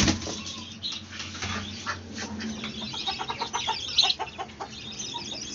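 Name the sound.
white hen clucking, coming out of the coop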